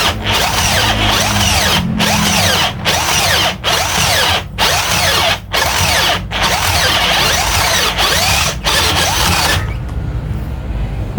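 A 20V cordless drill spinning a drill bit, loud, high-pitched motor whine running in repeated bursts with brief stops between them, then cutting off near the end, close up with no talk.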